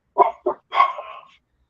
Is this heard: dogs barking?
yes